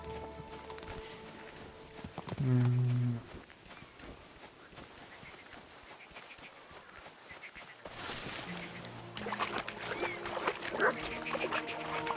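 Horse hooves clip-clop in the medieval role-playing game Kingdom Come: Deliverance II, a steady walking rhythm heard amid game music and ambient sounds, moderately loud and continuous.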